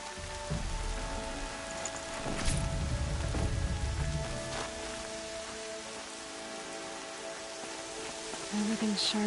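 Rain falls in the video game Horizon Zero Dawn, a steady hiss of drops on surfaces with a few louder splatters and low rumbles, continuous throughout.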